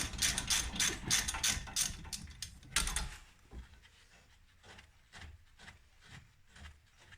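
Ratchet loosening a rear brake bolt on a 2021 Mitsubishi Eclipse Cross, with about three seconds of rapid, loud clicking followed by quieter, scattered clicks and clunks nearby.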